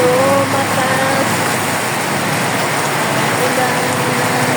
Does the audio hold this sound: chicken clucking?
no